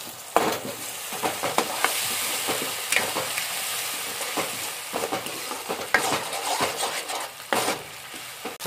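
Ginger, garlic, coriander and green chili paste sizzles in a pan for Malvani squid masala, with loud, close frying hiss and frequent clattering spoon stirs and scrapes against the pan throughout.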